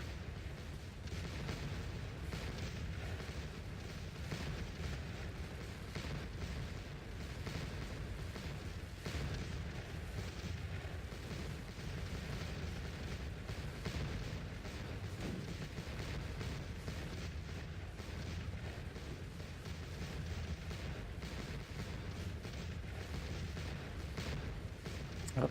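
Cannon fire rolls through a Napoleonic Waterloo battle in the Scourge of War strategy game, a dense continuous barrage of booms and gunfire that stays loud and steady for the whole stretch, with no talk over it.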